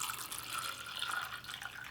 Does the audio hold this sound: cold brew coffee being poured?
yes